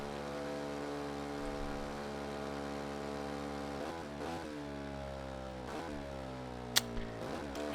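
Ducati motorcycle engines race in an Xbox Series X game: a steady, droning engine whine holds its pitch, then shifts and sweeps through several gear changes, with a brief sharp click near the end.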